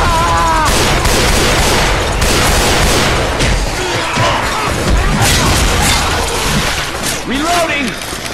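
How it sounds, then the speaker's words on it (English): Dense, loud gunfire from several players shooting the Tank in Left 4 Dead 2, nearly continuous rapid shots and crashing impacts close up, with voices and game sounds mixed in. "We all gotta shoot the tank."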